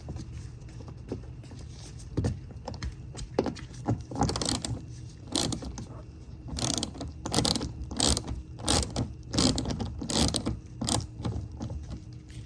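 Small metal screws are removed from the wheel well of a 2024 Tesla Model Y, heard as a series of close clicking, scraping and jangling handling sounds with irregular taps, without talk.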